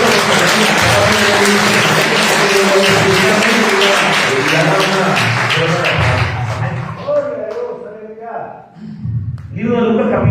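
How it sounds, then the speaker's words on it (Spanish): A church congregation claps loudly and continuously for several seconds, dense rhythmic applause close by with voices underneath, then it tapers off into scattered claps and talk. "Que lo den aplauso, Rey, hermano"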